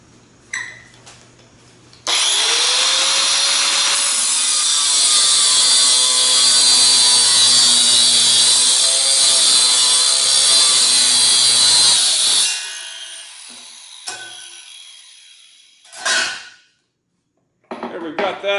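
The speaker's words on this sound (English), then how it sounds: "we're going to go ahead and finish this cut with our grinder here" An angle grinder finishes a cut through metal while a stainless shop sink and drain board are being built. It runs as a loud, steady, high whine for about ten seconds, then stops and spins down, followed by a few clanks.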